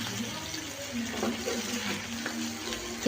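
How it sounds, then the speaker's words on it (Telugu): Chicken for pickle fries in a pan as its water cooks off, a continuous watery bubbling and sizzle at moderate level, steady and unbroken with small crackles scattered through it. "ఇలా చికెన్లో వాటర్ అంతా మొత్తం వాటర్ లేకుండా మొత్తం ఫ్రై చేసుకేసుకోవాలి"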